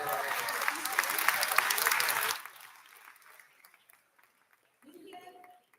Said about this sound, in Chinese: 我们是不是给我们雪梨的团队一个最大的鼓励掌声？